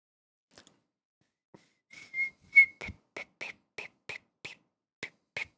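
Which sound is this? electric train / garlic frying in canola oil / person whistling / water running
person whistling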